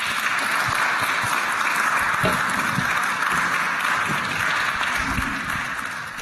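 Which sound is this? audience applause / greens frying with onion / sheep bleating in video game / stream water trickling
audience applause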